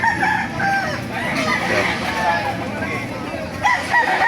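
Roosters crowing repeatedly at a chicken market in Baliuag, Bulacan, amid a busy, noisy crowd, with voices chattering nearby and overlapping calls.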